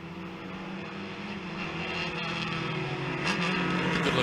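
Vintage H-Production club racers, including a 1970 MGB and a VW Golf, climb through uphill esses on a road course; steady mixed engine drone swells slightly as the field passes at moderate distance, no talk.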